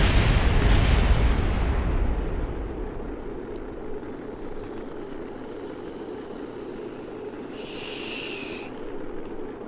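A rocket's bottom stage detonates in Kerbal Space Program: a loud, rumbling explosion burst up front that settles into a sustained roaring rush, with a brief hissing flare later on.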